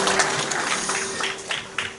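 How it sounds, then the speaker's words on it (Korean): Congregation applause at a church thanksgiving service, a dense, even wash of many hands clapping together with faint talk running under it. "박수로 큰 박수로 축하드리고요"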